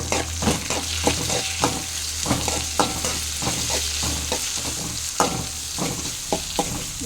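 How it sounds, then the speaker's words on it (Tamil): Tomatoes sizzle in hot oil in a pan as a spoon stirs them with regular scraping knocks, close and continuous, with no voices. "இனி தக்காளியை சேர்க்கலாம் தக்காளியும் சேர்த்து"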